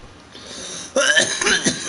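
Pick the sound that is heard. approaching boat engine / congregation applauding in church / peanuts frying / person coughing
person coughing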